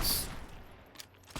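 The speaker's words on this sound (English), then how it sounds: "just casually taking 50 cal shots" A burst of .50 cal gunfire in Fallout New Vegas cracks out sharply at the start, followed by fainter scattered shots fading through a short stretch of quiet.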